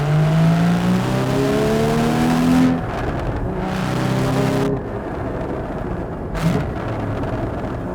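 A Porsche Cayman GT4 with a 3.8-litre engine blips its throttle on downshifts, sharp rising revs falling away in quick bursts, loud and close with tyre and road noise underneath.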